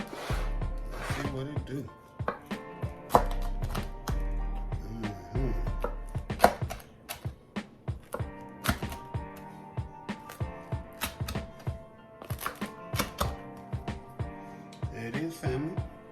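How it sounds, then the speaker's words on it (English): A knife cuts through crispy cheesy garlic bread in a series of sharp, loud crunches close up, irregular bursts with short pauses between them, while someone talks over the cutting. "Listen to that bread. Crispy, y'all."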